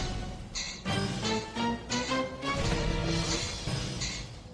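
Horror film score from the Hindi dubbed Ju-On: The Grudge plays: sustained eerie tonal notes shift in pitch over a swelling, pulsing background, loud and with no speech.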